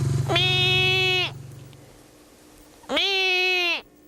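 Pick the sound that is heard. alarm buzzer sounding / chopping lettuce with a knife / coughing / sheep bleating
sheep bleating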